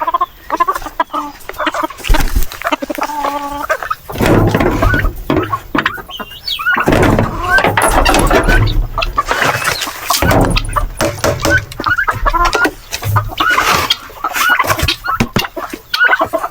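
Loud, close turkey gobbling comes in repeated rattling bursts, with no talk.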